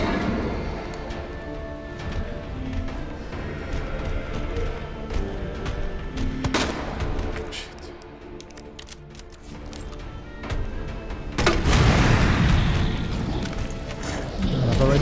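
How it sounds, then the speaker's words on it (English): A grenade launcher fires in the survival-horror game Resident Evil 2 Remake, with heavy booming blasts and a broad rumbling burst over a dense game soundtrack while a player talks throughout. "Then we have to switch to the grenade launcher."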